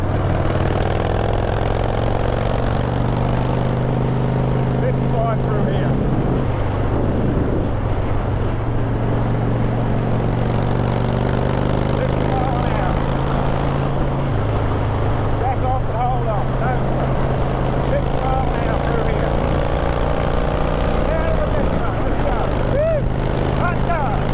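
A Harley motorcycle engine drones steadily at highway speed, around 60 to 65 mph, with wind rush and pitch shifts as the rider backs off and brakes; someone talks over the loud continuous roar.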